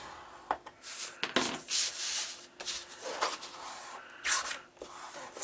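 Scoring tool dragged along a cardstock page for a mini album, a half inch in from the edge, giving several short, soft rubbing scrapes close by with brief pauses between strokes.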